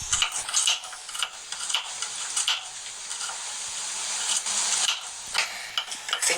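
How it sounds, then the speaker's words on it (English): A knife chops garlic on a cutting board in a home kitchen, a run of quick, close, crisp taps in uneven bursts, with no talking. "now I'm going to chop the garlic up"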